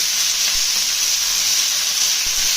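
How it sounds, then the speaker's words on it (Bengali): Fish fries in a thin layer of hot oil in a wok, giving a steady, close sizzle that runs unbroken with no talking. "তেলটা গরম হয়ে গেছে মাছগুলো ভেজে নেবো"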